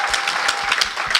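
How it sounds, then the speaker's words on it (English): Audience applause at a launch event in Seattle, a short stretch of steady clapping from a crowd at moderate level. "can we just applaud? Give an applaud"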